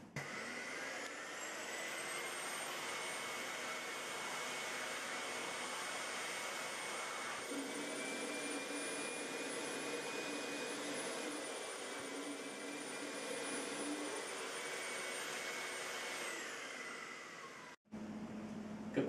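A Drainvac central vacuum system cleans ketchup from carpet, a steady loud whooshing suction drone with a high whine, sustained close by for about eighteen seconds before cutting off abruptly.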